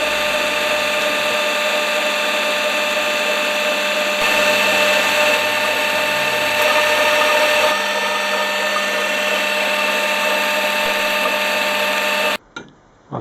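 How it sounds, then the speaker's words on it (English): A lathe turns a mandrel for fitting the clutch basket of a 1956 Gilera. It gives a continuous close mechanical drone with a steady whine for about twelve seconds, then cuts off abruptly. "I'm going to have to make up a mandrel to turn it up on the lathe"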